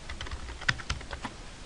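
A computer keyboard is typed on in a short run of several distinct, close keystrokes, two of them sharper and louder, over a steady low room hum with no voices.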